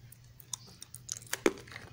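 Homemade jaggery peanut brittle (chikki) cracks and crunches in a handful of sharp, brittle snaps, the loudest near the end, against a quiet background without speech.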